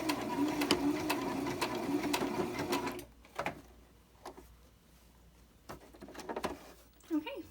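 A sewing machine rattles rapidly through a seam on a homemade fabric face mask for about three seconds, then stops, leaving only faint clicks and handling noises.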